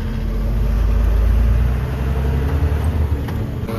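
Heavy truck engines idle at the Maharashtra border checkpoint, a loud, steady low rumble throughout with slight unevenness near the end and no talk.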